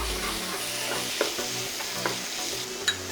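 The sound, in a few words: chicken strips being stirred in a pan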